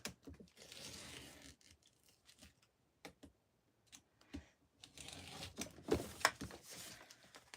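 Scissors cut through fabric for a napkin box cover, close by, in uneven bursts of snipping and tearing with short quiet pauses between them.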